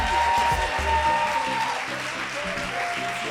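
Audience applause at a drag show, a steady wash of many hands clapping that fills the whole stretch, loud and close, with music tones faintly underneath and no talking.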